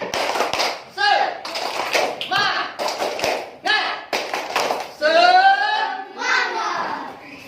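A classroom of children performs a rhythmic spirit clap, quick sets of claps broken by pauses, with children's voices chanting over it and a drawn-out shout near the end.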